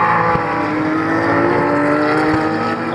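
Porsche race cars of the Itris Racing team run nose to tail at the Lédenon circuit, their engines roaring loud and steady without a break, with a trackside commentator talking over the noise.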